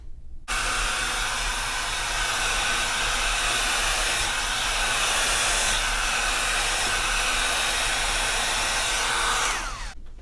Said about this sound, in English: I'm going to turn the strength of the blow dryer a little bit lower to make